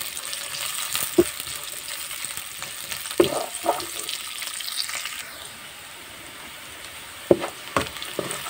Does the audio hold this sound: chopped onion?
yes